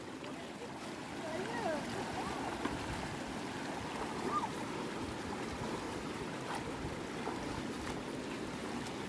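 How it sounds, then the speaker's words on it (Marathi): Strong river current rushing past in a steady, unbroken broadband wash that stays even and close throughout, with no clear pauses. "हे बघा पाण्याचा फ्लो किती जोरात आहे"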